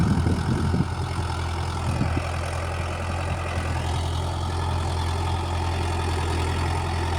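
A Mahindra Yuvo Tech Plus 575 4WD tractor engine runs steadily with a low, even idling rumble, with a few faint knocks early on and no talk over it.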